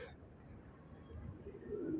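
Pigeons in a coop give soft, low cooing that rises toward the end, close and moderately loud over a steady murmur of the flock, with faint bird chirps overhead.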